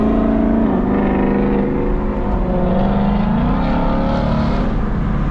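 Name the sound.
Ford Coyote V8 car engine and exhaust while driving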